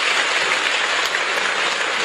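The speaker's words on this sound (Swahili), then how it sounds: "Naomba tuwape makofi mengi sana sana." Audience applause at a SADC ministers' meeting at the JNICC hall, a dense, loud, steady wash of many hands clapping throughout, with no speech over it.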